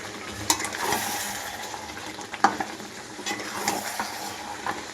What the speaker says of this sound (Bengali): এদিকে মাটন কষা চলছে মাটনটা ভালো মতো কষা হলে দিয়ে দেবো জল